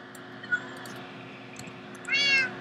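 Set against a steady hum, a cat gives a faint brief chirp and then one longer, clear meow toward the end.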